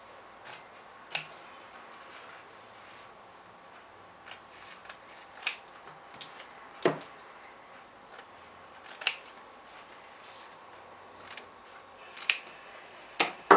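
Scissors snip through fabric in a string of sharp, quiet cuts spaced a second or two apart, close by in a calm, otherwise silent room.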